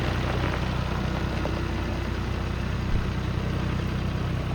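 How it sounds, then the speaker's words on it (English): A tractor engine, kept running with vice grips, idles steadily and loudly with a constant low chugging drone that holds without a break throughout. "So the tractor's running."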